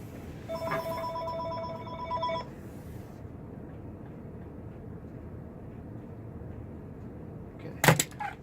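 A telephone rings on an incoming call, bursts of electronic ringing for about two seconds, then a faint room hush, with a sharp knock or clack near the end.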